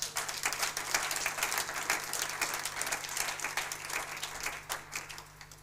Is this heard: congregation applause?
yes